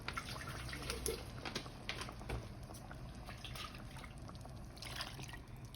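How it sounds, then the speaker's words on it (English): Water trickles and splashes steadily into a blender holding adobo sauce, a continuous liquid pour with no talking. "let's add a little bit of water to your blender"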